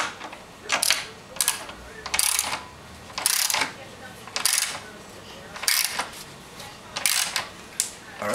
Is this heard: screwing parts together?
yes